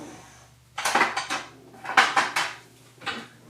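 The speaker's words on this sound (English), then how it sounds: "And then give it a stir." Metal spoon clinking and scraping against a cooking pot while stirring a creamy chicken orzo bake mixture, several short bursts in two clusters and one more, close and fairly clear with no talk.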